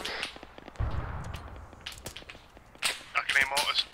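Anti-tank cannon fire in Arma 3 booms alongside sharp cracks, with one deep low blast early on and a voice speaking over the later shots.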